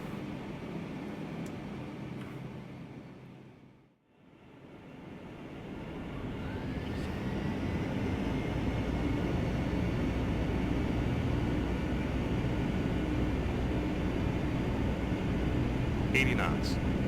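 Airliner engines spooling up for takeoff in a P3D/FSX flight simulator, heard from the virtual cockpit: after a brief dip, a broad steady roar swells and holds loud, with a faint rising whine.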